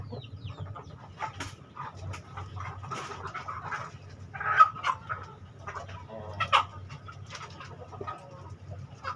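Breeding hens cluck softly in a coop holding a group of five hens, two of them brooding, kept with a Black Bull rooster; steady low clucks run through the clip with a few louder calls near the middle, and no talking.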